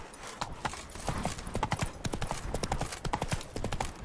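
Hooves of Roach, a horse in The Witcher 3, clip-clopping in a steady walking rhythm, close and distinct, with a soft snort or whinny mixed in.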